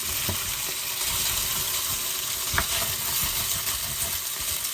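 Casserole ingredients fry in a generous amount of butter in a pot, giving a steady, close sizzle with faint stirring scrapes and a couple of light clinks, with no talking.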